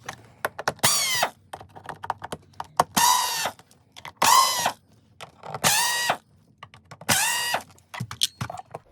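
Torx T20 screws being removed from a Miele C3 vacuum cleaner with a ratcheting screwdriver, heard as five close bursts of rapid ratchet clicking separated by short pauses and scattered handling taps.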